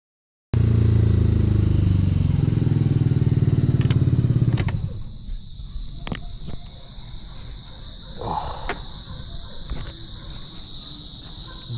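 Motorcycles in a rush-hour motorcycle lane on Commonwealth Avenue, Quezon City: a loud close engine roar for the first few seconds drops to a steady traffic hum with passing clatter and ticks.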